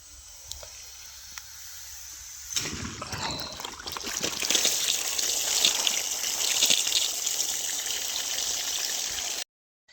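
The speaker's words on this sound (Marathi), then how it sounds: "घरातला वाल फिरवते आणि उसावर लावते पाणी" Water turned on at a household valve gushes steadily onto a sugarcane field, starting with a sudden rush partway through and continuing as a broad, close hiss before cutting off abruptly.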